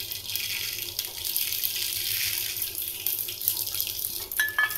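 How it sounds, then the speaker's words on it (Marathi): Cumin and mustard seeds sizzle in hot oil at the start of an anda bhurji, a steady bright crackling hiss that holds close and even throughout with no talking. "हे आता जिरी मोहरी टाकून घेते, तेल छान तापले"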